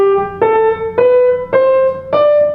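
Five separate piano notes rising step by step from do to sol, each struck cleanly and left ringing briefly before the next, evenly spaced and alone with no talking.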